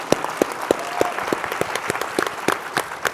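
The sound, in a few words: audience applause for conference sponsors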